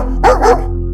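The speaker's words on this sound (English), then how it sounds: "a dog exploded out from under a lifted truck, barking, snapping," A dog that bursts out from under a lifted truck gives two quick, loud, close barks with a snapping edge, then falls silent.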